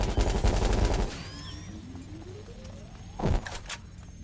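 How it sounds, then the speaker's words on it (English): A rapid burst of gunfire aimed at a drone in Watch Dogs Legion, loud for about a second, followed by a falling whine as the drone drops and a muffled crash shortly after. "Could you shoot this drone down?"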